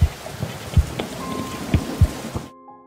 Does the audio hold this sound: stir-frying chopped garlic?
no